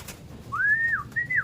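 A pigeon or dove gives two clear, close whistled call notes, each rising then dipping, against a quiet low rumble.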